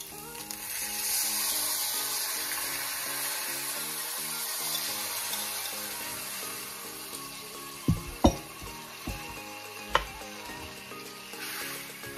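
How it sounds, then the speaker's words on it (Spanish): Longaniza sofrito with capers and olives sautéing in a pan, a steady loud sizzle that carries on throughout, with a few sharp clinks of utensils against the pan toward the end. "Seguimos aquí sofriendo todo esto."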